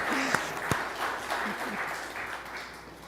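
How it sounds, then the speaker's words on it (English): Congregation applauding at a Kabbalat Shabbat service, a few seconds of moderate clapping with a couple of sharper claps and faint voices mixed in. "that is well worth a round of applause"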